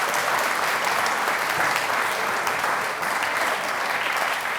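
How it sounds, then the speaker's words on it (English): Steady, dense applause from an audience at a community awards ceremony, loud and even throughout with no talk over it. "There's another round of applause for Nikki"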